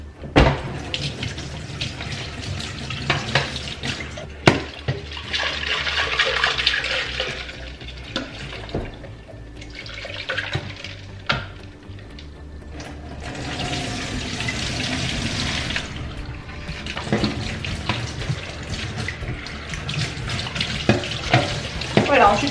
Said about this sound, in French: ensuite je passe un coup ici pour le rincer